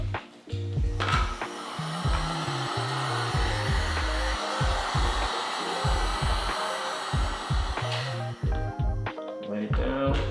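A heat gun blowing steadily while heat-shrinking material on an 11th-gen Honda Civic exterior, a continuous close whooshing hum with low thumps and knocks throughout.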